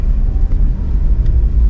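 A small car drives along a road to a village well site, a loud, steady low rumble of engine and tyres heard from inside with no talk.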